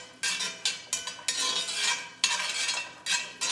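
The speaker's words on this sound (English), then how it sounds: "So I throw those babies in there. Get them all covered in the bacon grease." Food being stirred around a pan of hot bacon grease, with a run of close, fairly loud scraping and sloshing strokes that start and stop irregularly, and no talking.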